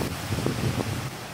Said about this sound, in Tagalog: walang patid ang hangin at ulan na ibinubuhos ng bagyo